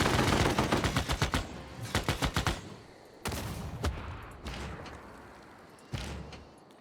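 Mechanized infantry firing in Civilization VI, sharp bursts of rapid automatic gunfire that come in quick rattling clusters, then fall to a few single heavy reports spaced apart, loud and close with brief quiet gaps between.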